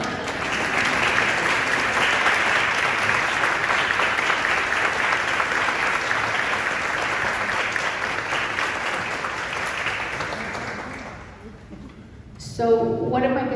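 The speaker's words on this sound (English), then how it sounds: "let's give everybody, including me, a round of applause." Sustained applause from a large audience, loud and even for about eleven seconds, then fading out as a voice starts speaking.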